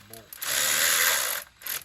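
A socket ratchet clicks as it works a bolt loose on a Nissan 2.5 engine, a close, sustained buzzing ratchet run with short clicks before and after.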